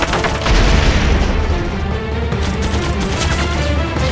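Dense, booming naval gunfire in a war movie trailer, a continuous loud rumble of heavy blasts with rolling low-end thunder throughout.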